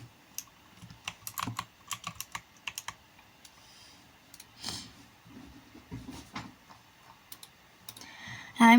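Someone types a chat message on a computer keyboard, with bursts of close, crisp key clicks separated by short pauses, ending with a sudden louder noise.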